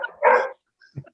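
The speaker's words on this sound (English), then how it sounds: "That was not me, that was the dog." A dog barks indoors, one sharp loud bark followed by a brief pause and a softer short yip, close to the microphone with no talking over it.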